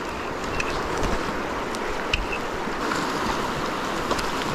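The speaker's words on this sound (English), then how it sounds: "There's a lot of rapids there." Rushing river rapids on a trout stream, a steady broadband wash of water close by with faint wind buffeting the microphone, no voices.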